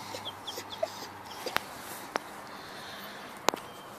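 Young hens on their first day out on the ground give soft, scattered clucks and small calls. Faint outdoor background and a few sharp clicks or taps break in at intervals.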